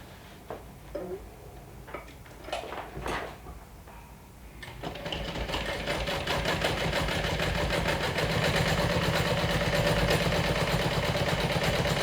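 Sewing machine stitching along the top of a vinyl bag flap, starting after a few seconds of quiet handling clicks and then running steadily with a fast, even mechanical chatter close up.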